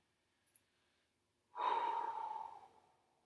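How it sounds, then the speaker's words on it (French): Heavy exhalation during a full-body strengthening workout at home, one long loud breath out lasting over a second after a short quiet pause, close and alone. "On continue à bien souffler"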